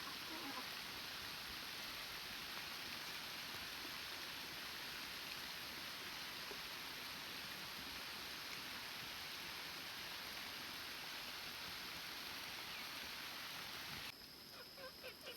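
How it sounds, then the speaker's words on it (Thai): Continuous, even wash of rain falling over a rural Thai farm in the early morning, a steady broadband hiss at moderate distance that thins out abruptly near the end. "ฝนตกมันกลับมาอีก"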